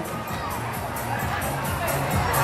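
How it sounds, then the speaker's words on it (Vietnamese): A crowd at an ethnic Thai wedding in northwestern Vietnam cheers and shouts, children's voices among the noisy babble, forming a loud, steady roar that builds slightly toward the end. "một tràng vỗ tay thật lớn để cùng chúng ta nào quý vị xin mời"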